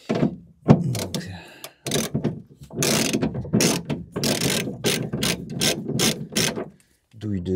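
A ratchet fitted with a 10 mm socket removes bolts while a rear camera is installed on a Ford Transit, giving repeated close, loud clicking bursts in quick strokes with short pauses between them.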